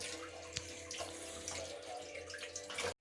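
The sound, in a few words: tap water running while washing fish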